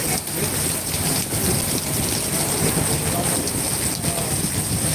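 A loud, unbroken roar of heavy rainfall over Sylhet city during a Kalbaishakhi storm, thick and even from start to finish.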